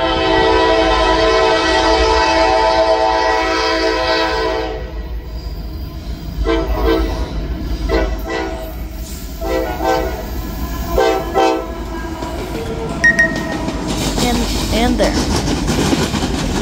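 A train passing in Marion sounds its horn in a loud, sustained blast, followed by rhythmic clanking and rumbling of wheels over the rails with occasional squeals, and voices talk now and then.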